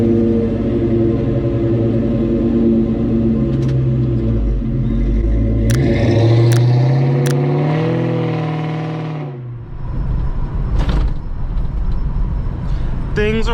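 A 1980 Dodge Aspen classic Mopar driving on a morning run, heard from inside with a steady low engine rumble and rising revs that drop away, as a few light clicks and rattles come through.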